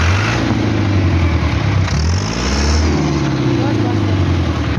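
A heavy 385 tractor engine fitted with a new silencer rumbles loudly up close, its low throb rising and falling as it revs, with a voice speaking briefly over it.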